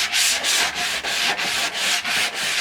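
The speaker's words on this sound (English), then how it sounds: "right now I'm gonna give it a quick sand" Quick hand sanding of wooden DIY closet doors produces about eight rhythmic abrasive strokes, close and even, scraping back and forth with no talk.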